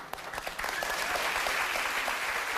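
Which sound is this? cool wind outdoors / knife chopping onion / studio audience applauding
studio audience applauding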